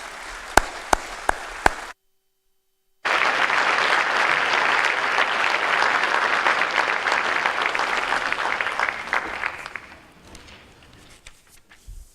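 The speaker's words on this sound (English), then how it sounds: "Please give them a round of applause." A large audience applauds students at a senior awards night, the dense clapping swelling after a short gap and holding steady for several seconds before fading out, preceded by a few isolated claps.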